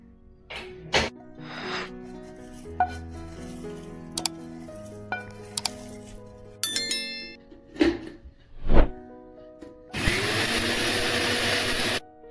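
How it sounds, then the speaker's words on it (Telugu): A mixer grinder whirs loudly and steadily for about two seconds near the end, grinding roasted biryani masala, after a stretch of clinks, taps and handling knocks as the jar is readied, with no talking. "మసాలా వేగిందండి, మిక్సీ పట్టుకుంటున్నాం."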